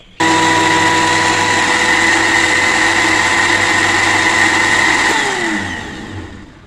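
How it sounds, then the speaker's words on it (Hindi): A loud, steady electric blender whirring for several seconds as it mixes cupcake batter with an egg, then its motor pitch drops as it winds down. "और अब हम दोबारा से ब्लेंडर को चलाएंगे सिर्फ 1 मिनट तक।"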